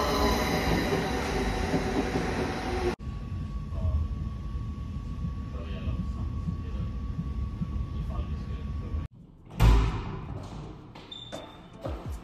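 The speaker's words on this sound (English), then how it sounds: "Here's the train." A train passing on a rail line, a loud continuous rumble with a steady tonal whine that cuts off abruptly, followed by brief clatter and shifting noise as it moves on.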